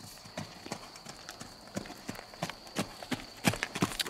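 Horse hooves thud on soft ground in a steady trotting rhythm as a Mérens horse is worked in circles, close by, with a faint high hum in the background and no talking.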